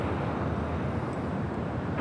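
United Airlines Boeing 787-10 Dreamliner arriving at Los Angeles International Airport, a loud continuous broadband jet roar for about two seconds, wind-buffeted and fairly close, with no talk.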